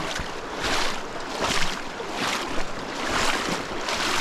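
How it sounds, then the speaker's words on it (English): Water swirls and splashes steadily as someone in felt-soled waders walks upstream through a coastal Oregon creek, with rhythmic surges of rushing flow close to the microphone. "Gonna wade up the creek."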